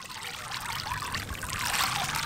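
Thousands of small Orbeez gel beads pour into a blue pool of water, making a steady, close rattling trickle and patter that holds evenly for a couple of seconds and swells slightly toward the end.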